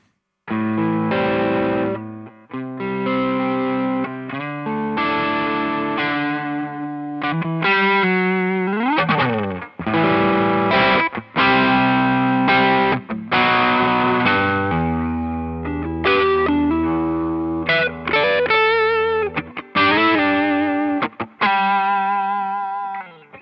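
Electric guitar played through a Greenchild K818 overdrive pedal on a gain setting, chords and riffs ringing with thick, gritty distortion and a slight chorus shimmer, continuous and loud.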